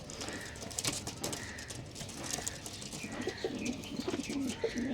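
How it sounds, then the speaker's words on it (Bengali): Top-quality red Kalshira and Fulshira pigeons coo softly in a loft, faint and overlapping, with light rustling and no talk. "তো দেখে নাও সব কটা সুপার কোয়ালিটির পায়রা আছে একদম, প্রত্যেকটা পায়রা"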